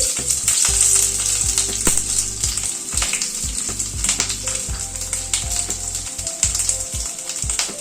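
Diced onion frying in hot oil, a loud close sizzle with bright crackling and occasional spoon scrapes and clinks against the pan.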